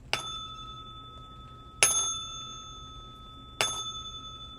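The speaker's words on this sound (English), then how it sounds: "Let's go ahead and ring the bell before we begin." Three bright, ringing strikes of a small bell, evenly spaced about every two seconds, each chime sustaining and fading before the next, close and clear in a quiet room.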